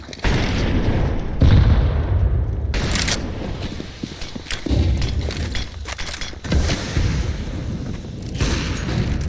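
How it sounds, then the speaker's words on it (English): Grenade blast in a competitive esports shooter match, heavy booming explosion with rumbling gunfire-like bursts sustained loudly throughout, no voices. "A little bit of nade damage done onto strike here"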